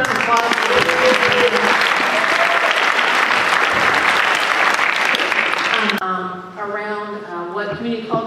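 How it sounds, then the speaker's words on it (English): An audience at a California Legislative LGBTQ Caucus event in Fresno breaks into dense, loud applause for about six seconds, which then cuts off and gives way to a voice speaking. "Can we give her another round of applause?"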